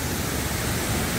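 Steady, dense roar of Okryang Falls on Baegaksan, Sangju, South Korea, filling the whole clip, a loud continuous rush with no voices.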